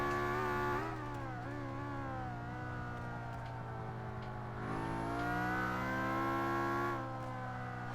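A race car accelerating in Forza 5, a steady, sustained engine whine whose pitch climbs as it revs, easing off, then surging again through a second pull with a high mechanical whir on top.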